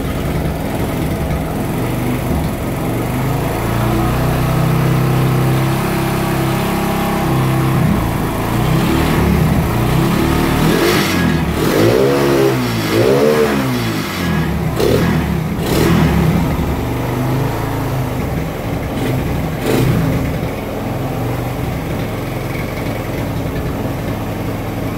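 A Suzuki Thunder motorcycle engine is revved repeatedly, its pitch climbing toward 9000 RPM in rising and falling sweeps over a steady loud idle, close up with no talk.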